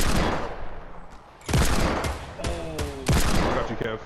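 Rapid bursts of gunfire from a multiplayer shooter video game, loud and close, coming in several heavy volleys with brief lulls between them.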